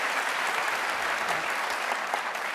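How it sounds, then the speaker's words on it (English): A live audience at a history talk gives a big round of applause, dense and sustained, filling the hall close and loud with no break. "I just want to start with a big round of applause"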